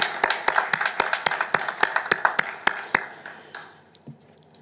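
A church congregation at a Korean Sunday evening service claps together in a steady, even rhythm, loud and close. The claps slow and die away near the end.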